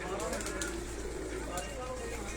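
Pigeons kept at a house in Sialkot cooing softly and continuously at low level, mixed with background noise and faint nearby voices.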